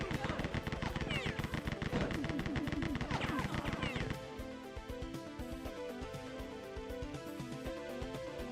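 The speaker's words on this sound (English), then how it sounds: "Where are you guys shooting me from?" Rapid gunfire and explosions in the first-person shooter game Rise of the Triad: Dark War, loud and continuous over game music, thinning into lighter shots and music after a few seconds.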